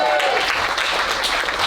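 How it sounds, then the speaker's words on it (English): Wedding guests at a reception clap together in a steady, dense burst of applause that fills the room for the whole moment. "So let's give a round of applause to Wendy."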